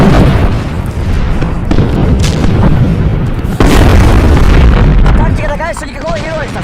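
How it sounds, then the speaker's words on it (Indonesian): Deep, rumbling artillery blasts boom repeatedly over a dense, continuous roar, with a sharp crack near the middle and faint whistling tones toward the end. "Tembakan artileri pun diluncurkan."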